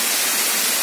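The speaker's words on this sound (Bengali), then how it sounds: "দারুণ একটি ঝর্ণা।" A waterfall roars close by, a loud, even rush of falling water with no break in the brief stretch.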